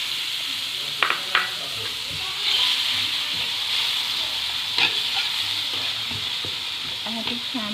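Ground spice paste for tuna balado sizzling in hot oil while being stirred, a steady close frying hiss broken by scraping strokes of the spatula, with a voice talking faintly.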